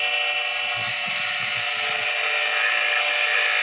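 A skew chisel cutting a spinning wood blank on a lathe gives a loud, steady high whine and hiss throughout, with a faint low rumble early on.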